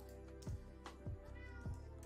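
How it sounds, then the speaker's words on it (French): A pet cat meows indoors three times in quick succession, short and fairly close, over a steady low room hum. "si vous entendez des miaou, c'est pas mon ventre, hein, c'est mon chat"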